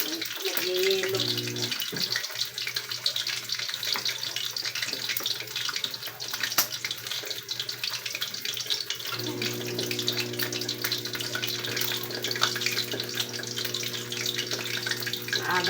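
Running water while washing laundry by hand, a steady gushing stream like a tap filling a basin, continuous and fairly close, with a low hum beneath and faint voices at times.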